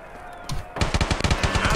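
Rapid gunfire in a shooter video game, a quick run of sharp, evenly spaced shots after a brief quieter lead-in, loud and close.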